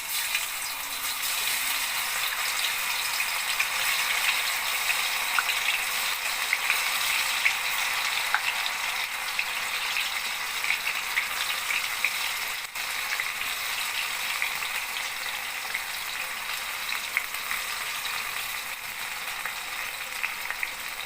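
Soya chunks deep-fry in hot oil on a low flame, giving a continuous, even sizzle and crackle that stays close and steady throughout, with no talking.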